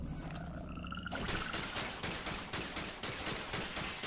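A weak infinite-ammo gun in the video game Alien Breed 2: Assault fires a rapid stream of light, evenly spaced shots over busy game sound, after a brief tonal chime at the start.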